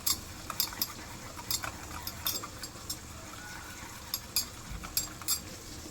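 A spoon stirring spices such as kasuri methi and garam masala into yogurt for a spicy okra curry, with faint scattered clinks and scrapes against the bowl in a quiet kitchen.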